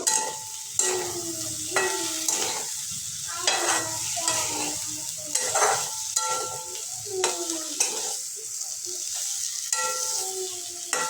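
A spatula scrapes and clinks repeatedly against a pan while food is mixed over a low background sizzle. The strokes fall in an uneven rhythm roughly every second, with no voices.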